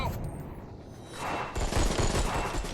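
Gunfire in the VR light gun game Aim Assault, rapid bursts of shots that grow louder and denser halfway through.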